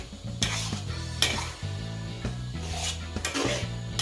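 Stir-frying in a wok for a charity food stall dish of king oyster mushrooms with chicken: repeated scraping spatula strokes against the pan over a steady sizzle, rhythmic metallic clatter close up, no talking.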